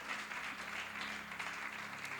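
Church congregation applauding during a French-language service, a steady, soft wash of clapping from many hands that continues evenly throughout.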